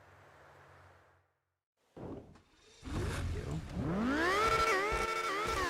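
A car engine revs during a test drive in the RedlineRP driving game, a brief whine rising loudly after a quiet stretch and climbing through several sweeping pitch changes up close.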